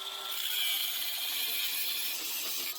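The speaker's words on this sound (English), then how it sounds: "Start by putting this 5-inch socket extension in there and cutting her in half." Steady, harsh, close grinding or sawing as a 5-inch socket extension is cut in half, a continuous loud hiss lasting the whole short stretch with no voices.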